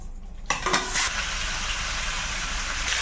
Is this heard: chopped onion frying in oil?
yes